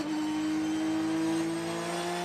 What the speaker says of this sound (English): he might have been feathering the throttle there